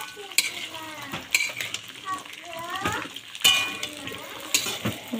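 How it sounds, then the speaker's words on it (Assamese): Raw chillies and chickpeas are stirred in a cooking pan, with a spoon scraping and clinking against the metal over a soft sizzle, close up and continuous with irregular strokes. "এতিয়া আকৌ ৰখা কেঁচা জলকীয়া বুট গোটেইখিনি দি লৈছোঁ। এইখিনি ধুনীয়াকৈ লাৰি দিম।"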